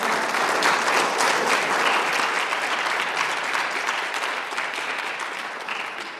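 A church congregation bursts into sustained, dense applause, steady and close for several seconds before easing off slightly toward the end.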